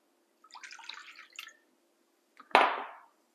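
A cup of water is poured into a bowl of fine 00 flour for pita bread dough: a brief trickle, a pause, then one louder splash that fades out.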